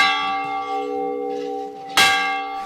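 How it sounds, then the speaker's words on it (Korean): A church bell on a low hillside in a small village beside the Suncheon Bay wetland rings loudly and nearby, its long ringing tone sustained until a fresh strike lands and rings on. "어디선가 들려오는 청아한 종소리를 따라 골목길을 걷다 보니 뜻밖의 장소를 발견했는데요."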